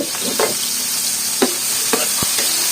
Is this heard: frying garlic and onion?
yes